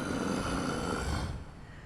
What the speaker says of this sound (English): we're gonna listen to this guy's heavy breathing for 3 minutes